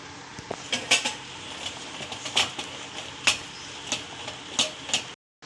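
A metal spoon clinks and scrapes against a pan while Ashoka halwa is stirred with melting sugar and ghee, producing irregular bright knocks, close and fairly quiet, with no talking.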